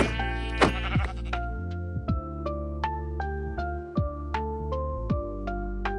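Sheep in the Minecraft video game bleat repeatedly in clear, loud, pitched game-sound calls, one after another in quick succession over a steady tonal background.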